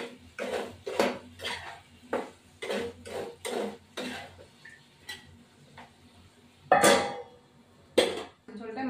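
Pieces of rui fish are stirred and fried in a pan with a spatula or spoon, giving repeated sharp metallic scrapes and clinks in uneven bursts, close and fairly loud, with quieter gaps between.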